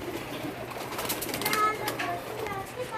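Pigeons coo softly in a pigeon house, murmuring low under a voice and light background chatter.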